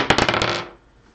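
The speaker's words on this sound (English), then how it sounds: "Let's roll the dice to decide which pack we open." Dice rolled to pick a hockey card pack during a group break, giving a quick burst of several sharp rattling clicks and bounces over about half a second before settling into quiet.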